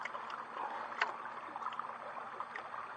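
Water swirls and laps quietly in a gold pan during panning, a faint steady wash with a few small splashes and clinks of gravel.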